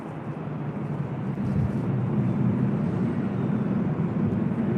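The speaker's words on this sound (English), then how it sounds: "Flight 769 coming in from Shenzhen at 777-300ER." Boeing 777-300ER airliner arriving at LAX on a flight from Shenzhen, heard as a steady, loud low jet roar that swells slightly partway through and holds without any voices.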